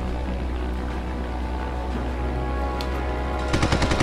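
Aircraft machine guns fire in Red Wings: Aces of the Sky, a short rapid burst of shots near the end rising over a steady engine drone.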